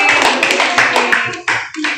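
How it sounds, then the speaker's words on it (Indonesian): A small audience at an Atomy Medicook wok cooking demonstration gives a short burst of close, uneven clapping, with a voice speaking over it. "Tepuk tangan sekali lagi"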